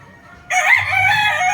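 A two-year-old banded fighting cock crows loudly and close by in one long, sustained call that begins partway in and carries to the end.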